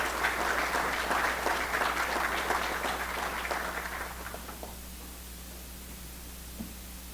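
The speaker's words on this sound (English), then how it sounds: "Please give her a big round of applause." Loud applause from an evening audience for the president of the Aruba Chamber of Commerce, dense at first and then thinning out and fading to near silence.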